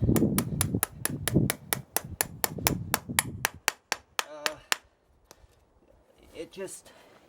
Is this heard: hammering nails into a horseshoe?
yes